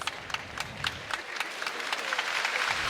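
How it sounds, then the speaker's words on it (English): Crowd in a volleyball arena at L&N Federal Credit Union Arena applauding, a sustained wash of clapping that starts with distinct claps and grows denser, with a commentator talking over it. "And a big hand from the crowd here at L&N Federal Credit Union Arena."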